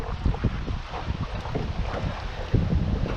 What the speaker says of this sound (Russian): потому что сильный ветер сносит